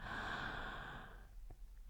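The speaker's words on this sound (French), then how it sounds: "ouvrez la bouche en grand à l'inspiration" A deep inhalation through a wide-open mouth during a sophrology relaxation exercise, one long airy breath close to the microphone that fades out, followed by quiet.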